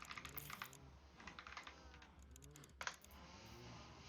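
Rapid, steady clatter of keys on a computer keyboard being switched between QWERTY and AZERTY layouts, close and clear, with dense bursts of clicks and no talking.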